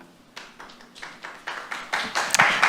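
Audience applause in a public listening-session hall, starting as a few scattered claps and quickly building into louder, denser clapping from many hands, close and without talk.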